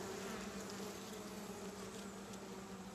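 Honey bees hum in an open hive where a queen cell is being built, making a dense, steady droning buzz close by with no pauses.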